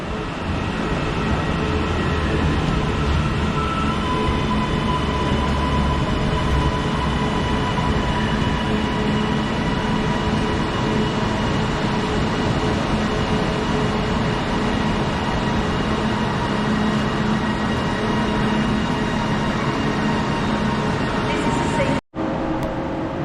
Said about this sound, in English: We've got a Nova coming in very slow on platform 4.